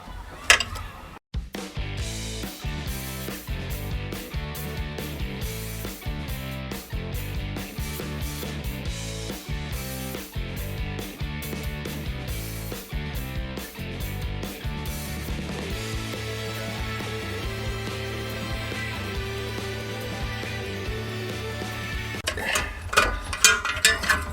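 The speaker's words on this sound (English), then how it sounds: "So now I just have a 15mm nut and bolt. So let me go ahead and get those taken out." A 15mm nut and bolt worked loose from the alternator of a Jeep Cherokee XJ, giving a long run of rapid, steady ratchet clicks close up over a constant tonal hum, ending in a brief clatter.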